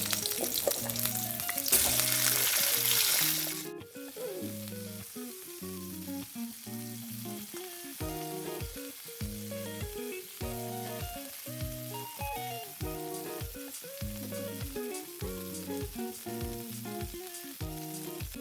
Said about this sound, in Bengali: প্রথমে ফুলকপিগুলোকে লাল লাল করে ভেজে নেব